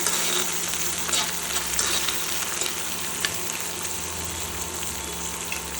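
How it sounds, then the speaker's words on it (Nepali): Onions frying in a little oil in a pan make a steady, close sizzle with faint crackles throughout, no voices present. "यहाँ चाहिँ थोरै तेल हालेर प्याज हाल्छु पहिला।"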